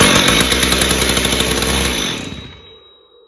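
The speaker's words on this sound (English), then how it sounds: "It's a Stihl TS410, the one you've just seen start up on carb spray." A Stihl TS410 cut-off saw's two-stroke engine runs loudly at close range on carb spray, a harsh rapid buzzing that fades out and dies after about two seconds.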